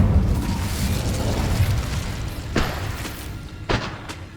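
Fire spell cast in the Hogwarts Legacy video game, a deep rumbling whoosh with two sharp bursts standing out late over a steady low roar of battle noise.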